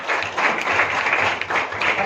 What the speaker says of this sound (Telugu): జెంట్స్ అందరూ ఒకసారి లేడీస్ కి గట్టిగా క్లాప్స్ ఇవ్వండి.